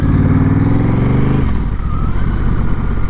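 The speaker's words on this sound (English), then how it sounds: "just adding that little Kaufman slip-on muffler, I think the bike sounds good" A 2022 Honda Rebel 1100 motorcycle fitted with a Kaufman slip-on muffler revs loud and close, its engine note dropping sharply as the revs fall about halfway through and settling into a rough, steady idle.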